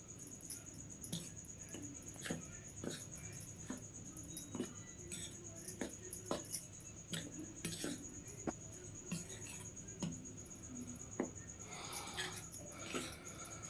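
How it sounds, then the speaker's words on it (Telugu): Ingredients for a homemade cow-dung toothpaste are stirred together, giving faint, irregular clinks and taps of a utensil against a container in a quiet room. "వీటన్నిటిని ఒకసారి కలుపుకుందాం"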